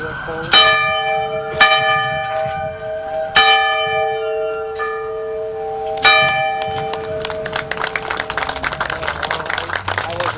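Church-style bell struck several times at a Veterans Day memorial ceremony in Lincoln Park, each loud ringing strike decaying slowly, spaced a couple of seconds apart, followed by a quicker run of strikes and scattered applause.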